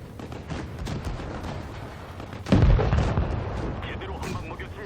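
A tank cannon fires once in World of Tanks Blitz, a heavy boom midway through followed by a rumbling tail. Game noise plays throughout, and a voice talks in the background.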